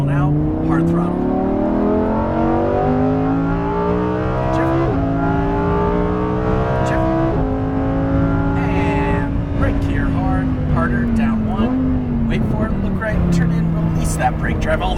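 A Lamborghini Huracan Performante accelerates hard on a race track at Exotic Racing, Las Vegas, its engine climbing in pitch through several rising surges and gear changes, loud and close, with an instructor talking over it.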